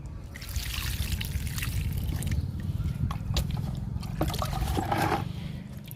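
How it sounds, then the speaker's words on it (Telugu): Liquid fertilizer pours steadily onto a pink vinca plant, a continuous close trickle and splash of liquid that keeps going throughout with a few faint clinks and rustles. "పింక్ కలర్ వింకా అండి, ఈ మొక్క కూడా ఇస్తున్నాను లిక్విడ్."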